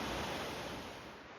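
Steady, dense rushing of falling water fills the scene, a constant broadband roar with no voices, at Canyon Creek Falls in the Trinity Alps Wilderness.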